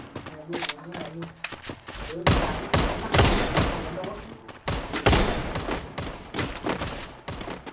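Rapid bursts of gunfire in the video game Free Fire, loud repeated shots and fusillades in irregular clusters, with a voice talking over the shooting.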